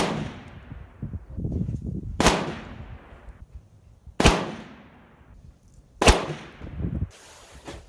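Three sharp, loud rifle shots from a PSA 6.5 Grendel ring out a couple of seconds apart at an outdoor range, each crack followed by a decaying echo.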